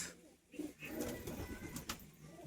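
Pet pigeons kept at home, males and females, give a soft, close, low cooing for a moment, quiet and without talk.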